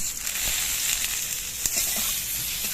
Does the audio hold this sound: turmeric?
yes